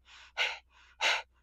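Forceful breathing during a yoga session, two short softer breaths each followed by a strong, sharp exhale, close and alternating in a steady rhythm.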